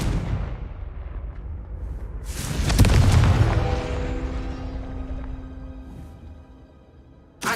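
Spell explosions from Bombarda and Confringo in Hogwarts Legacy: a heavy booming blast swells around the third second and rolls off into a long rumbling, ringing decay, with a fresh sharp burst right at the end.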